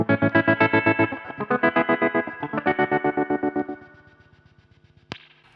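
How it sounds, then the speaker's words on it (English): Electric guitar chords pulsing through a Dophix Galileo optical tremolo pedal, choppy rhythmic swells that speed up as the rate changes, fading to a quieter fluttering tail before a sharp click near the end. "This is the speed of the trem. That being its slowest. This being its fastest."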